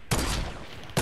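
Two sharp sniper rifle shots from a Fortnite match, each a loud close crack followed by a short rumbling tail, spaced about a second apart.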